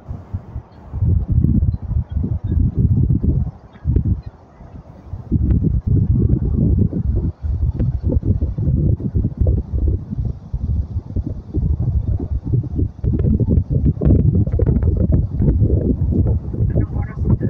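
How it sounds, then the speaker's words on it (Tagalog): Strong wind buffets the microphone continuously at sunset at Tung Chung, Lantau Island, Hong Kong: a loud rumbling roar with gusty fluctuations throughout. "Mahangin. Mahangin."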